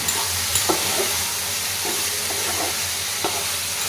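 Mushrooms frying in butter and garlic with chili flakes in a pan, giving a steady close sizzle with a few soft scraping clicks from stirring and no voices.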